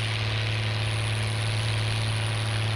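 A New Holland 3630 tractor engine in Farming Simulator 19, a loud, steady low drone with a constant hum and no change in pitch throughout.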